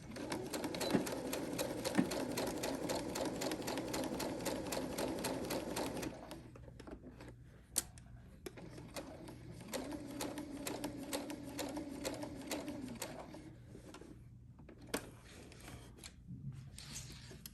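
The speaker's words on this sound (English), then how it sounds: "I'm going to stitch forward and reverse and go all the way around" Sewing machine stitching forward and in reverse around a ruffle bag, a fast rattling run of needle strokes for several seconds, then slower bursts of stitching separated by pauses and a few sharp clicks.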